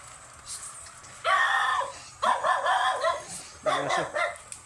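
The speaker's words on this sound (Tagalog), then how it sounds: "Aso." A dog barks in several short bursts close by in a rural yard where bamboo and building materials are being gathered, with a rooster-like crowing quality in the calls and a low hum underneath.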